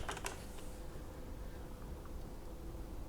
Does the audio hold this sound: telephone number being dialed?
no